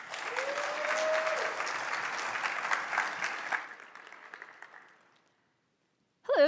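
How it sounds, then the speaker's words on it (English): Steady applause from a conference audience at a Python developer event, dense clapping that fades out into silence before a voice begins at the end. "Go ahead and give her a round of applause."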